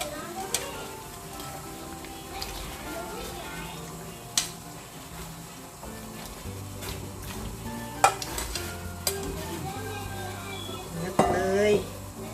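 Fish fries in a pan with a steady low sizzle while a utensil stirs it, producing scattered clinks and scrapes against the pan, recorded close, with occasional quiet talk in the background.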